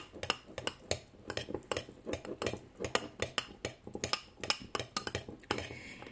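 A spoon clinks rapidly and rhythmically against a glass while stirring a garlic drink mixture, a steady series of sharp close metallic taps with no talking.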